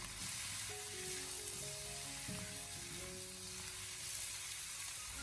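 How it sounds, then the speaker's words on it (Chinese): Fresh chicken pieces for chestnut chicken are stir-fried in a wok over high heat, heard as an even, hissing sizzle with faint stirring beneath it, fairly quiet and steady throughout with no talking. "先开大火进行快速的翻炒，先把鸡块炒至变色"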